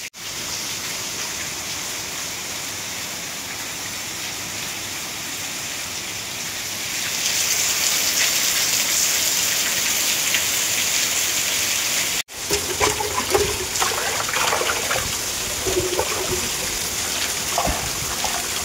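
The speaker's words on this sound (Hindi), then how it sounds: "इतनी मूसलाधार बारिश हो रही है।" Heavy torrential monsoon rain pours down in a dense, loud, continuous roar that swells midway, then carries on with splashing and patter after a brief break.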